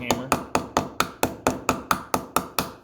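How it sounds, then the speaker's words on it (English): A hammer strikes a metal grommet maker tool twelve times in an even, quick rhythm, each blow a sharp, loud, close metallic knock that rings briefly before the next. "use a hammer."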